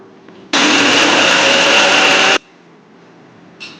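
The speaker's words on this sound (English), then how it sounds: "unroasted, unsalted almonds. Just grind them." Unroasted, unsalted almonds ground into almond flour in a blender, a loud, steady whirring roar that runs for about two seconds and then stops abruptly, followed by quiet.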